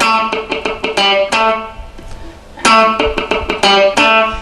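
A punchy, bright electric funk guitar riff of short chopped chords with muted notes and a brief pause midway, then the pattern repeats; played alone, close and loud.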